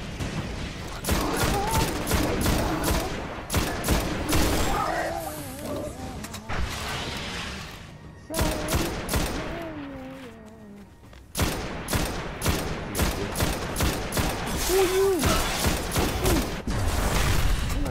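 Rapid bursts of gunfire from the sci-fi shooter video game Destiny, loud and repeated in dense volleys with brief pauses, with a voice speaking over parts of it.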